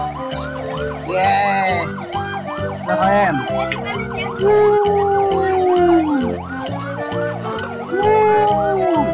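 A toy fire engine's wailing siren sweeps up and down repeatedly, loud and close, with a brief spoken voice and some clattering toy-like noises.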